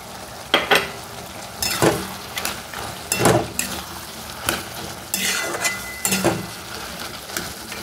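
Fried lentil dumplings being stirred into a bitter vegetable curry with boiled potatoes, repeated spatula scrapes and wet stirring thuds against the pan over a soft simmering sizzle, close by, no speech.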